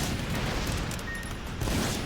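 Rapid strafing gunfire from a hovercraft in a video game, a dense, continuous rattling barrage that holds steady at close range throughout with no voices over it.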